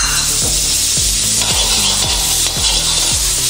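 A spoonful of butter sizzles in a hot pan as soup cooking begins, a steady loud frying hiss with repeated low scraping or stirring strokes about every half second, and no voices.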